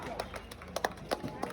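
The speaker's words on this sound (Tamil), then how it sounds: "வந்து தலையா கைத்தட்டுங்க. நல்ல கைத்தட்டுங்க." A crowd at a Pongal festival's traditional games claps in scattered, irregular bursts against murmuring chatter and nearby voices.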